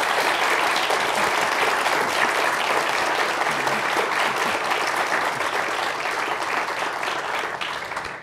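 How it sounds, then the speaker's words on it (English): A live audience gives a sustained round of applause for a panel of speakers at an evening event, dense even clapping from many hands that holds steady for about eight seconds before tapering slightly. "So if you would, please give them a nice round of applause."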